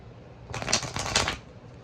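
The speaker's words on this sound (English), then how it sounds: "I'm gonna do a little shuffling." A deck of tarot cards is riffle-shuffled once, a brief crisp fluttering burst close by, surrounded by quiet.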